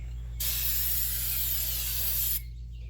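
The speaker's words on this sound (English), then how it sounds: "get our can of brake clean out" Brake cleaner sprays in one steady, loud hissing burst of about two seconds from an aerosol can during a rear brake rebuild on a 2003 Dodge Ram 2500, with a low hum underneath.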